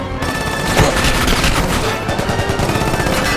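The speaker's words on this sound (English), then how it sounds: "The criminals unleash a hail of gunfire" Dense, continuous automatic gunfire from criminals firing on a pursued patrol car along a backroad, loud and sustained, with rapid overlapping shots and booms filling the whole stretch.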